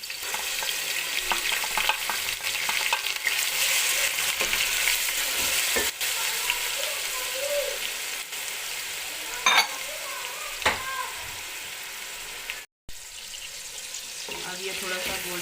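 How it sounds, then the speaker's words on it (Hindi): Garlic ginger paste sizzling in oil in a pan with golden-brown onions, a steady close frying hiss with stirring scrapes and occasional clinks, a brief cut near the end. "अब मैं इसमें लहसुन अदरक का पेस्ट डालूंगी।"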